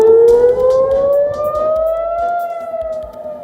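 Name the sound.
air raid siren in Jerusalem during missile attack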